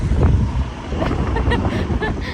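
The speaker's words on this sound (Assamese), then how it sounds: "ঠাণ্ডা বতাহ আহিছে" Cold wind blows at Vagator beach on Parra Road, a loud, continuous rushing roar across the microphone with surf-like texture underneath and faint higher sounds flickering through.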